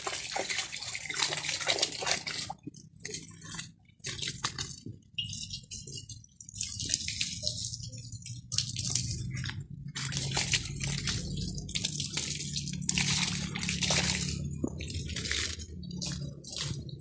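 A 12V solar-powered 1100 GPH bilge pump, run from two solar panels with no battery, sends out a strong, continuous pour and splash of water, loud and close, with gurgling surges and no talk.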